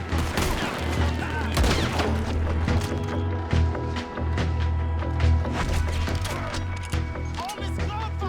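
Rapid, dense gunfire from a Gatling gun in the Red Dead Redemption 2 video game rattles on continuously in a sharp, repeating volley amid other shots and impacts, with voices talking over the din.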